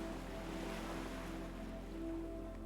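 Ocean waves wash onto a sandy beach in a soft, continuous distant surf wash with faint low rumble and a steady tonal hum beneath, no talking.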